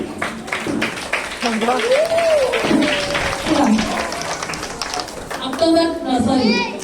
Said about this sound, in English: You clap to him